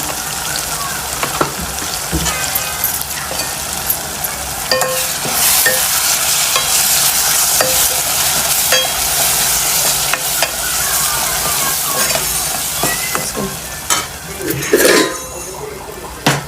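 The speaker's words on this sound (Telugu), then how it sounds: "ముందుగా తరిగి పెట్టుకున్న వంకాయలు అయితే నూనెలో అయితే వేసేసుకున్నాం" Chopped eggplant fries in hot oil seasoned with chili powder and coriander powder, a loud, continuous sizzle broken by scraping stirs and occasional clinks of a spoon against the pan.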